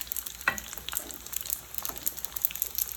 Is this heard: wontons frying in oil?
yes